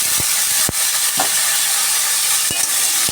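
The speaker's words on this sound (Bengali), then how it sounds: "এবারে ফোড়নটা ভাজা ভাজা হয়ে গেছে, এবার আলুটা দিয়ে দেবো।" Diced potatoes dropped into hot oil over a fried cumin and green chilli tempering with tomato, producing a loud, steady hiss of frying with a few sharp crackles and pops.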